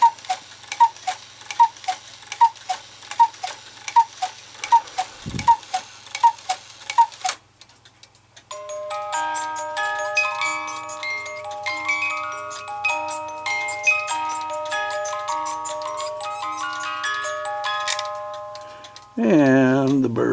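A Regula cuckoo clock with woodchopper, dancers and waterwheel ticks in a steady, close rhythm, then a music box melody starts up and plays on, with a brief voice near the end.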